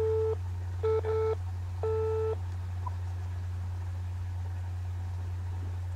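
Telephone line tones after pressing 7 on a phone keypad: three short, steady electronic beeps at uneven spacing, heard over a constant low hum, with no talking.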